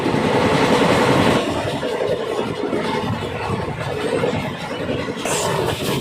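The 14507 Delhi Fazilka Intercity Express runs fast over the rails at about 110 km/h past Saver Markanda. A loud, steady roar and rattle of the wheels on the track continues throughout, heard from inside a general class coach.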